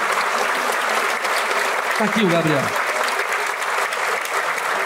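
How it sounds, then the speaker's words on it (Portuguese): Applause from a stage show's audience welcoming a guest, steady crowd clapping throughout, with a voice speaking briefly over it in the middle. "Por favor, palmas para ele."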